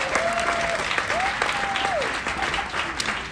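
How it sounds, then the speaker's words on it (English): Lecture audience at a university talk breaks into clapping, a sustained moderate applause with a few whoops and a voice carrying over it. "let's applaud for Prince, come on"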